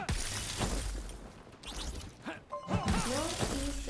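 Armor shattering in the video game Darwin Project, a sharp breaking crash at the start followed by more game effects and clattering.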